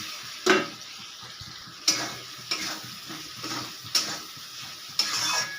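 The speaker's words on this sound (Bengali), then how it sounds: "চিংড়িগুলো দিয়ে ভালো করে আমি এটাকে ভেজে নেব" Prawns fry in a pan with a constant close sizzle, broken by sharp clinks and scrapes of a spatula against the pan at irregular intervals of about a second.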